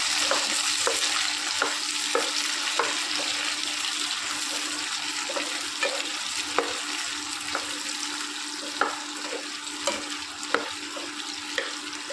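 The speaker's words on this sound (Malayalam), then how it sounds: "നമ്മുടെ വെളിച്ചെണ്ണ ചൂടായിട്ട് നമുക്ക് ഇതിലേക്ക് ഇട്ട് കൊടുക്കാം ചാമ്പയ്ക്ക" Rose apple pieces frying in hot coconut oil, a loud continuous sizzle with regular scraping knocks of a spoon stirring through the pan.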